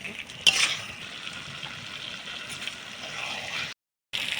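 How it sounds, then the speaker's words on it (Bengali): Potato and pointed gourd pieces stirred in a hot oiled pan for a vegetarian kalia, with a continuous soft sizzle, a sharp scrape of the spoon near the start and a brief dropout near the end. Close and steady. "আলু পটলটা দিয়ে দেবো, দিয়ে একটু নাড়াচাড়া করে"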